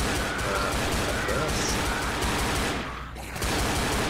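Pistol fire in Left 4 Dead sounds as dense, rapid bursts of gunshots, loud and continuous with a brief lull near the end, with a voice speaking over the shooting.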